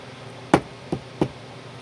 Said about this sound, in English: that's the sound of my finger with the callus tapping the desk that my phone is on